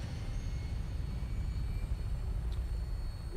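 An aircraft taking off in Fallout 4, a steady low engine rumble and roar, moderately loud and unbroken, with no talk.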